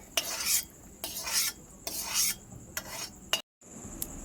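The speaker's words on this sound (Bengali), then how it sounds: "ঘুগনির জন্য এইভাবে করে আলু ভেজে নিতে হবে প্রথমে" Potatoes frying in a pan for ghugni, stirred and scraped in four rhythmic bursts about a second apart, each a bright rasping sweep over a faint sizzle, with a short silent gap near the end.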